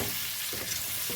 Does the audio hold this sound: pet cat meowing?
no